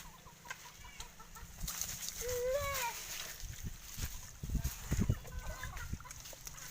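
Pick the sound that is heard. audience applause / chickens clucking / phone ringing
chickens clucking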